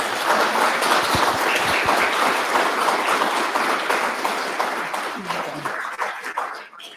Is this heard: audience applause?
yes